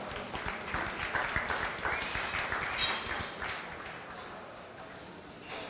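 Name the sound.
audience applause at a goat show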